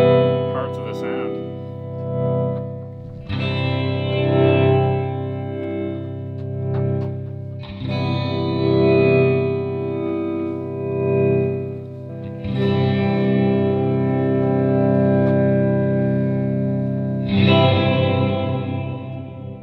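A metal plate reverb machine in a studio gives a sustained tone a long, shimmering tail, repeated in four long swells of sound that each ring on for several seconds.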